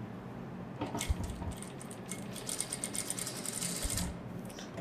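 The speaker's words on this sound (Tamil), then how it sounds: "சும்மா ரஃபாக தையல் இதில் மடிச்சதில் ஒரு தையல் போட்டுக்கலாம் தான்." A sewing machine runs in quick bursts, roughly stitching a fold of blouse fabric; the close mechanical whirr stops and starts with small clicks and clatter between runs.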